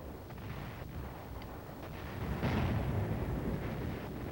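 Enemy artillery gun firing in Korea, heard as a distant, muffled boom that swells briefly over a low background rumble, picked up by microphones on a hill.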